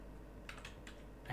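Typing on a computer keyboard, a few quiet key taps in quick irregular succession over a low background hum.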